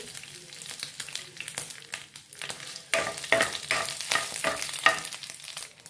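Dried red chilies and curry leaves crackling in hot oil with mustard seeds, a close, bright sputtering sizzle full of quick pops that grows busier partway through, heard alone.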